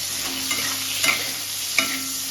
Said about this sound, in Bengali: এই কুমড়োগুলো আমি তেলের মধ্যে দিয়ে দিলাম আর দেখো হলুদ হলুদ দিয়ে হলুদ নুন এগুলো দিয়ে আমি নুনটা একটু ভেজে নেব